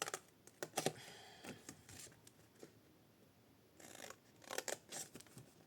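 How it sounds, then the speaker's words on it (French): Scissors cutting paper for homemade washi tape drawers, a few close crisp snips in short clusters separated by quiet pauses. "Et je coupe."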